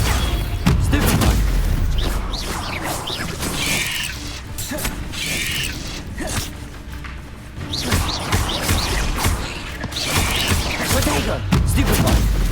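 Rapid spell casting in a video game fight, with repeated booms, thuds and crackling magic bursts in quick succession, loud and busy throughout with intermittent voices.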